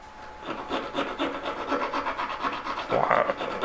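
A file rasping back and forth over a model tree branch built from soldered wire, quick repeated scraping strokes close by at moderate volume, with no talking.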